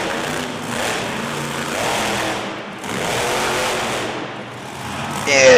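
Monster truck engine roars at a live monster truck show, loud and continuous with surging revs and crowd noise, ending in a sharper burst near the close.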